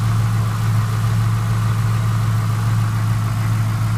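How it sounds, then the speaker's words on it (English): A factory-built 2003 Ford Mustang Mach 1 with a ram-air 4.6-liter V8 under its shaker hood idles steadily, a close, even low rumble with no revving and no voices. "So I'll start it up and give you a tour of that."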